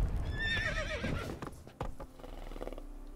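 Horse hooves clopping and a loud whinny in The Witcher 3, the neigh rising and falling early on, followed by rhythmic hoofbeats and thuds, with a quiet voice in the background.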